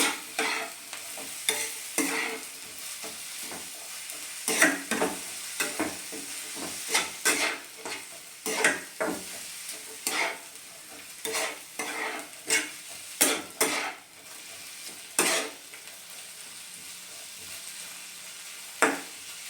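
Papaya chutney being stirred in a pan after a spoonful of salt goes in, repeated scraping strokes of the spoon over a soft ongoing sizzle, close by and fairly quiet.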